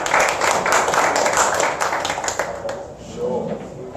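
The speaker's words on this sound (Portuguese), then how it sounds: "eu gostaria de receber o Ricardo então com uma salva de palmas" Audience at a Startup Grind event in Rio de Janeiro claps to welcome a speaker, a dense burst of hand claps that thins out and fades after a few seconds, with voices murmuring underneath.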